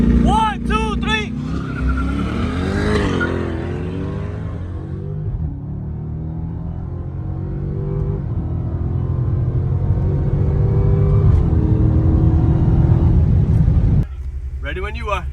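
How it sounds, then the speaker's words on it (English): A C8 Corvette and a Supra drag race from a dig: loud, close engines launch and accelerate hard with rising, shifting pitch for over ten seconds, and people talk briefly at the start and end. "We're gonna go from a dig, so it should be an interesting race."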